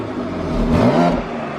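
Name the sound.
BMW X3M Competition exhaust in economy mode, valves closed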